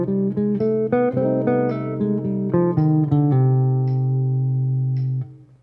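Clean guitar runs an eight-note bebop scale over a minor tune, single picked notes stepping in even succession before a final held note rings out and fades, close and alone.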